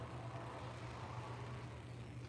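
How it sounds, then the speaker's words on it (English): A motor vehicle rumbles steadily outdoors, its low engine drone loud and continuous, like a car or truck revving nearby. "I'm hearing car or something go crazy"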